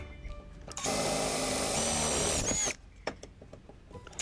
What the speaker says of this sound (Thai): ผมก็จะมาเจาะรูทั้งหมดจำนวน 8 รูเช่นกัน